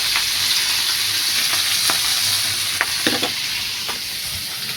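A thin curry simmers and sizzles steadily in a pan, with a continuous loud hiss broken by several sharp scraping stirs.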